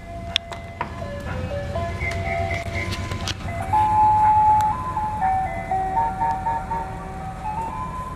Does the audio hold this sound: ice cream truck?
yes